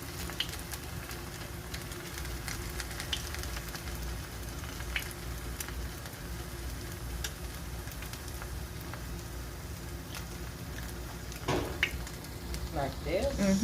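Kotlets frying in hot oil, giving a steady dense sizzle with scattered crackles and pops over the whole stretch, close and even, with a brief burst of clatter near the end.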